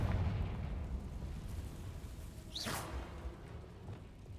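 Confringo fire spell explodes in Hogwarts Legacy, a single rising whoosh and burst around the middle of a steady low rumble of game ambience, moderately loud and without talk.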